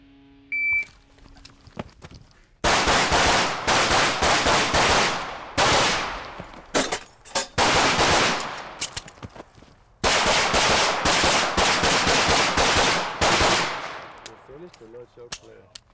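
Rapid gunshots ring out during a competitive shooting match run, loud bursts of fast strings of shots separated by brief pauses, with a short beep near the start.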